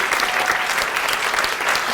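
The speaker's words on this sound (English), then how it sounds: "can we have a round of applause for her?" A loud, dense round of applause from a festival audience at a live comedy show, continuous clapping filling the whole stretch without voices.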